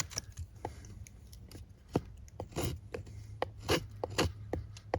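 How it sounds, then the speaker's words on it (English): Knife carving shavings from fairly dry wood, a series of short scraping rasps in irregular rhythm, close and fairly crisp, with no talk. "I'm going to use my knife here to make some shavings."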